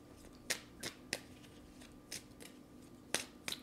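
Tarot cards snap and slide as they are drawn from a deck, several crisp, quiet flicks spaced irregularly in a calm room.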